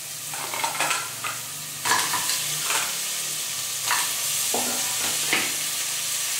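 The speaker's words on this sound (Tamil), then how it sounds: "இப்ப நான் எடுத்து வச்சிருக்க நண்டை" Crab is fried and stirred with ginger, garlic and shallots in a pan, giving a continuous sizzle broken by repeated scraping strokes of a spoon at irregular intervals.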